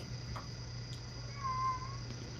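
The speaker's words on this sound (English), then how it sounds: "the cat's screaming" A cat cries out in a short, rising and falling meow over a steady low hum, with faint clicks around it.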